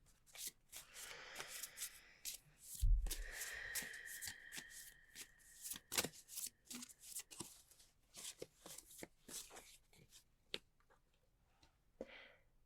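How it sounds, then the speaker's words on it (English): Tarot cards riffled and shuffled several times, crisp papery ticks and flutters, close by with no talking. "We're just going to shuffle these and see how the universe wants to contribute"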